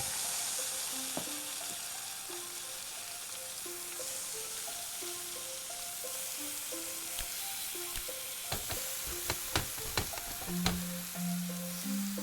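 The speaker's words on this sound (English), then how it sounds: "I collected a new sound, the sound of frying potatoes." Potatoes sizzle and crackle steadily in a frying pan in the video game Dordogne, a soft continuous fry with a few sharper pops, under gentle background music and no speech.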